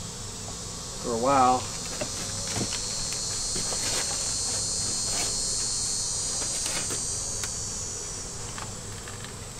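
Honeybees flying around in front of a hive, a constant close buzzing hum with individual bees whizzing past, while someone speaks briefly near the start.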